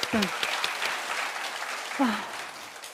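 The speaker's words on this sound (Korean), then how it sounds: "박수 한번 쳐주세요." Audience applause at a lecture, a continuous broad patter of clapping from a crowd with brief vocal exclamations rising over it.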